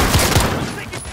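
Two quick shots of gunfire in Call of Duty: Modern Warfare, a 2v2 match, crack close and loud over a dense game soundscape, and brief voice chatter runs underneath.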